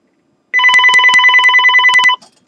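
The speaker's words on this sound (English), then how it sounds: "Excuse me, another phone call." A telephone rings in repeated quick electronic trills for about a second and a half, loud and close, then stops, with a computer 3D modeling session going on around it.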